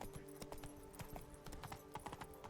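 Horse hooves clip-clop steadily and densely in The Witcher 3, a continuous clatter over a low game ambience with no talking.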